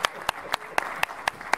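Steady, evenly spaced claps ring out at an event of the Cuban Academy of History in exile, about seven sharp hits in under two seconds with no talk over them.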